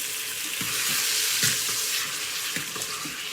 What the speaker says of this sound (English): Just going to put in all the liquid and everything from the tomatoes.